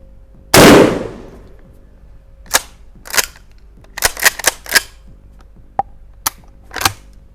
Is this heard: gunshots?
yes